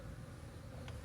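Honey bees drone around an open hive during a beekeeping inspection, a faint, continuous buzz with no voices.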